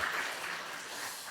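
A church congregation at a Christmas thanksgiving service claps hands together, a continuous soft patter of many hands heard from a distance.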